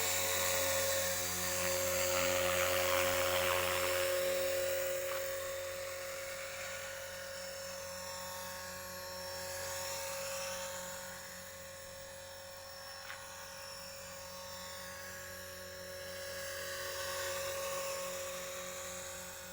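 A radio-controlled Bell 206 model helicopter flies in the open air with a continuous high-pitched motor whine and a rotor hum. The sound swells and fades as the model moves nearer and farther, and it plays on its own with no voices.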